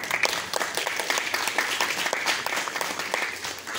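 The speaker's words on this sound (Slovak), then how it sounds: "a tiež možno jeden potlesk do neba" An audience at a benefit concert claps in tribute to a person who has passed away: dense, steady applause with many individual claps audible, filling the whole stretch at an even level and with no talking.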